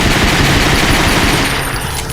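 Rapid burst of basic pistol gunfire in the Ghosthunter video game, loud, dense shots running together for about two seconds before trailing off.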